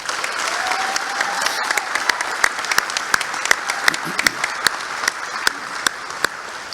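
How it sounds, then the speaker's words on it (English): A seated audience at a military ceremony gives a round of applause, dense clapping that holds steady and close with a few sharp individual claps standing out. "Let's give them a round of applause."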